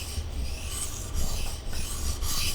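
A Benchmade 940 knife blade being sharpened on a 400-grit stone, working along the curve of the edge: steady, close scraping rasps in repeated back-and-forth strokes, with no talking.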